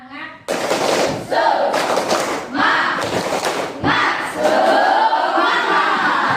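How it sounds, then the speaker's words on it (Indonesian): Schoolchildren in a classroom performing a rhythmic tepuk semangat clapping chant, with bursts of claps and shouted voices in short groups separated by brief pauses. "mari kita melakukan ice breaking terlebih dahulu dengan melakukan 1 kali tepuk semangat"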